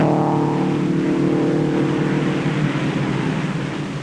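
Race cars lapping the oval at the 1958 Indianapolis 500, a steady loud engine drone with sustained harmonic whine held throughout, fading slightly at the end.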